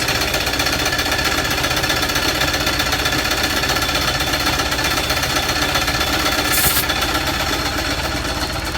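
A loud, steady mechanical rattle of a Westinghouse T1 air compressor on a WWII Jeep running continuously, with a dense pounding chug throughout and no voices.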